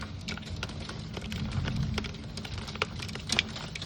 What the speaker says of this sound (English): hailing here.